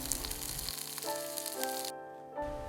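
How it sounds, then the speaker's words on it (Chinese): Rolled dumpling wrappers fry on low heat in a covered pan, giving a soft, steady sizzle that sits under background music throughout. "依次放入卷好的饺子皮， 盖上锅盖，用小火慢慢的焖，等到饺子皮底部煎成金黄色就熟了。"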